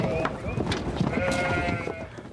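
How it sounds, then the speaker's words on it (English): Sheep bleating as farmers lead their flock through the streets of Paris, several overlapping bleats in a steady, busy crowd noise with people talking throughout. "Farmers lead their sheep through the streets of Paris."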